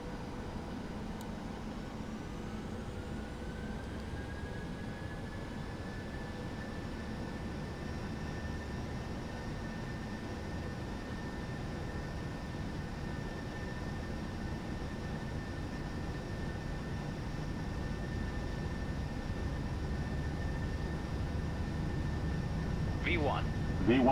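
Steady airliner engine roar building gradually during a takeoff roll in a VR flight simulator, a constant broad rumble with a rising whine, loud and unbroken.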